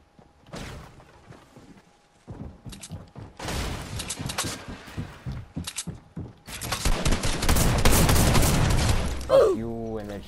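Rapid gunfire bursts in a video game, including shotgun blasts, build from scattered shots into a loud, dense barrage, with talk mixed in throughout.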